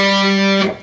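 An overdriven electric guitar plays a short lick, a loud, sustained, distorted note with rich harmonics that rings for most of a second before being cut off with a brief scrape.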